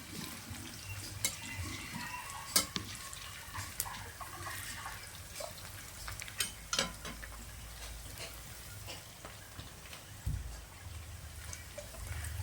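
Chopped onion and green chilli frying in a pan for a potato and bottle gourd curry, a soft steady sizzle broken by sharp clicks of a spoon stirring against the pan.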